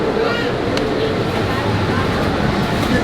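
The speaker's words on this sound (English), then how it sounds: "We're waiting for the monorail." A Disney World monorail arriving at a station near the Grand Floridian, a steady loud rumbling hum of the train with a brief sharp click, and people talking over it.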